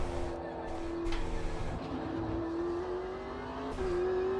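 A race car engine in the Automobilista 2 racing game pulls out of the pit lane at Montreal, its steady tone rising in pitch as it accelerates and shifts, moderately loud throughout.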